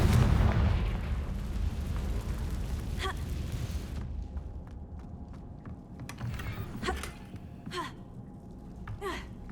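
A Confringo explosive spell fires in the video game Hogwarts Legacy, a loud blast with a long wash that drops away at about four seconds. Sharp magical cracks and clicks follow at a steady rhythm.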